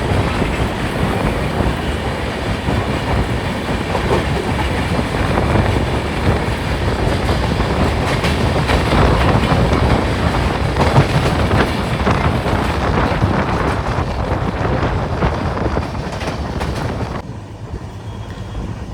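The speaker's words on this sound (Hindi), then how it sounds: "Tirunelveli Jamnagar super fast express जो एंटर हो रही है तिरूर में।" The Tirunelveli–Jamnagar superfast express enters Tirur station in Kerala with a loud, continuous rumble and wheel clatter, buffeted by wind noise, easing off in the final seconds.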